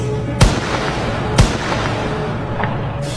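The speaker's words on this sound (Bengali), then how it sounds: "আবারও গুলির শব্দ" Two sharp, loud rifle shots about a second apart, followed by a fainter third crack, over a steady background murmur.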